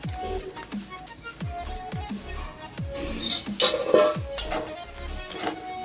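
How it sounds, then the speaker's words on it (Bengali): Jute leaves tossed with salt and sugar in a wok of water, with metal utensil clinks and knocks against the wok and a soft watery churn building in the second half, no voices. "লবণ এবং চিনির সাথে শাকটা খুব ভালো মতো মিক্স করে নিয়ে ঢাকা দিয়ে দিচ্ছি 4-5 মিনিটের জন্য"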